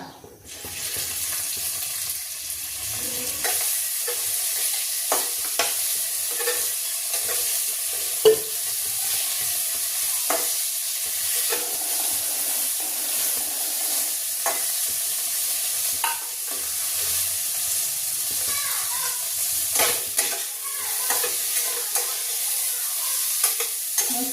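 Bitter gourd sautés in hot oil, with a continuous bright sizzle broken by frequent spoon scrapes and clicks against the pan throughout, near and steady, with no talking.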